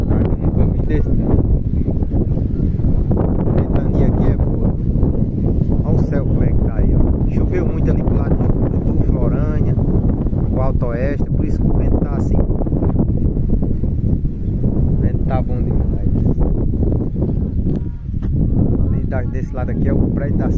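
Strong, steady wind buffets the microphone on a mountain ridge in the Serra das Cordilheiras, a dense continuous roar filling the clip with a voice talking over it.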